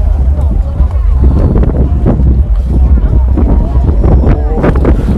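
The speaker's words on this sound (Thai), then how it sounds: "ลมแรงมากนะ" Strong wind buffets the microphone at an outdoor second-hand market, producing a loud, continuous low roar and rumble throughout, with a voice talking over it.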